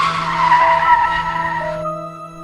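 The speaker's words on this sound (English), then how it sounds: "the car coming to a stop on the side of the road" A car skids to a stop at the side of the road, its tires squealing loud and close for about two seconds before the squeal breaks off into a fading engine hum.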